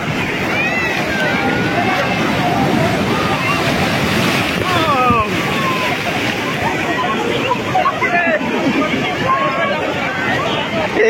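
Sea surf washing onto the beach at Puri, a steady broadband roar of breaking waves with wind buffeting the microphone, under lively crowd chatter and shouts of bathers throughout.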